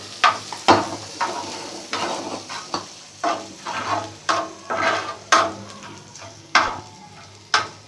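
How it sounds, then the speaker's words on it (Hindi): A spoon stirs boiled chana dal into a sizzling spiced potato burger filling in a pan, with repeated scraping strokes and clinks over steady frying, close up and with no talking. "इसे भी हम अच्छे तरीके से मिक्स कर देंगे इसमें।"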